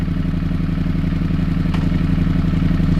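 A 2024 Ducati Streetfighter V4 with a full titanium Akrapovic exhaust idles close by, a loud, steady, throbbing engine pulse that runs evenly throughout.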